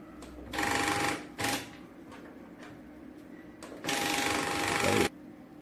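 A Zebra label printer loaded with 10x15 cm labels feeds them while calibrating, giving two mechanical whirring bursts, the second longer, with quiet pauses between.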